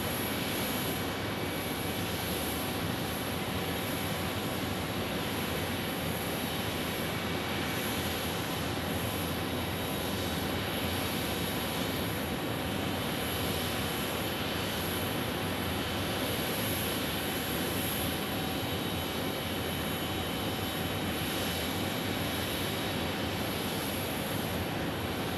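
An Envoy regional jet arrives at Phoenix Sky Harbor airport, a steady broad engine roar with a high whine, heard at a distance for a long, continuous stretch without talking.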